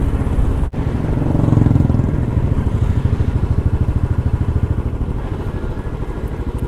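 A Kawasaki Ninja sport motorcycle on a forest road to Valparai in the monsoon gives a loud, steady engine drone with a rapid pulsing rhythm that fades slightly as it moves along.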